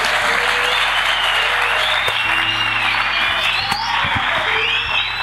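A large church congregation in Kenya breaks into sustained, loud applause, dense hand claps filling the space continuously with a few whoops and voices rising over it, the clapping steady throughout.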